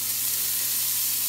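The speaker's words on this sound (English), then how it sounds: "I gotta love a good sizzle." Small bacon pieces sizzle in a slow cooker, a steady bright crackling hiss that stays even and close throughout, with no talking.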